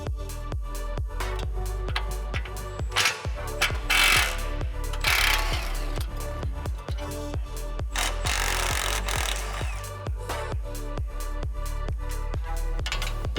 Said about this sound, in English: breaking the bolts in preparation to remove the front shock and spring